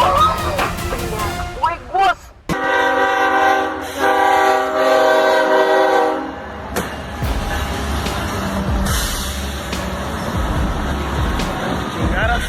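A train rolls past with a loud blaring horn sounding in several blasts near the start, followed by a sustained rumble and clatter of the passing cars close by.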